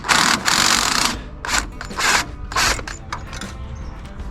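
Wrench with an extension loosening a bolt on the starter of a John Deere 3020 tractor, giving loud, close, broadband ratcheting and scraping bursts in uneven strokes with short pauses between them.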